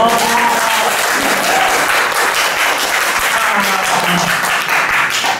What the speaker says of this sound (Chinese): 掌声掌声